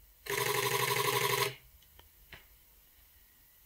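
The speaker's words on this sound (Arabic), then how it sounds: "شوف سرعة التصوير في الكاميرا هنشوف هنضغطها مرة واحدة" A Sony A77 camera firing its shutter in burst mode, a loud continuous rapid rattle of shots lasting over a second, followed by a few faint isolated clicks in a quiet room.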